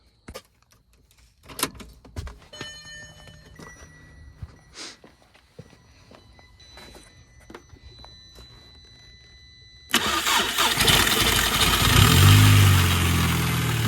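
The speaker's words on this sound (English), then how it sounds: "So what this is doing is pretty much bypassing the starter relay and going straight to the starter to start the motor." An Audi engine cranks and fires up with its starter relay bypassed, catching suddenly into a loud, steady running roar close by after a stretch of quieter clicks and shuffling movement.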